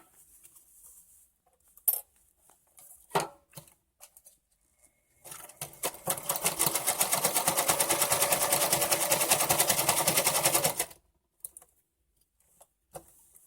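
A Singer sewing machine runs a large zigzag decorative stitch, a fast, even mechanical clatter held steadily for about five seconds, with a few isolated clicks and handling noises before and after.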